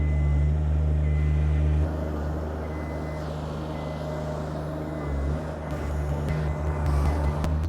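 A generator engine runs on propane, a steady low hum holding throughout near a newly built home, with a brief lift in the middle and a few faint clicks near the end.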